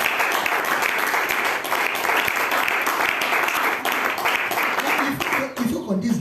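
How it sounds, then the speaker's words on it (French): A church congregation applauds during a Sunday service, loud, dense clapping from a crowd close by that holds steady for several seconds before thinning out at the end. "Acclamons pour frère Dani."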